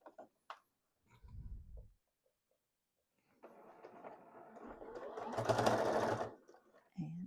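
A sewing machine runs for a few seconds stitching quilt binding on a quilted table topper, a close, steady whir that swells louder before stopping, with brief speech and handling sounds around it.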